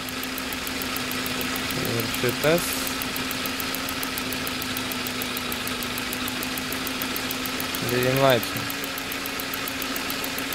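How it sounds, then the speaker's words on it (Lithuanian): A SAAB car engine idles on LPG with a steady, even hum close by, while someone speaks briefly twice over it. "mūsų variklis dirba lygiai, nes visi vienodai atsidarinėja"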